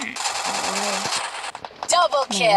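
Rapid bursts of automatic gunfire from a video game fire continuously for over a second, loud and dense. After that, a few sharper shots cut through while a player talks over the action.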